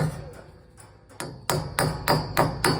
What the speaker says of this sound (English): you get the framing nail on the angle, kind of like a guy rope on a tent, and you hammer it in